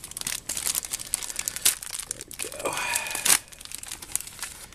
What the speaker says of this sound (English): let's open our accessory pack real quick